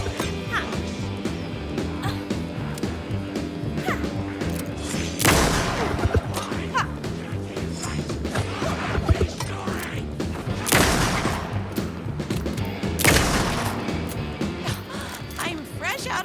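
Gunfire in the game Alan Wake 2, a few loud broadband bursts and booms standing out over a dense, busy game soundtrack, with intermittent speech around them.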